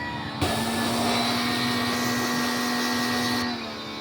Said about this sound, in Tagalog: pagkatapos namin na ma-sprayan yung blower, yan, hinahanginan natin yan.